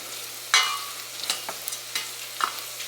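Onions cooking slowly in butter in a pan over low to medium heat, a soft steady sizzle broken by a few light scrapes and stirs of a utensil, no voices.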